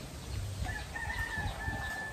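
On a small backyard farm, a rooster crows close by while hens cluck around it, a short burst of loud barnyard calls with no talking.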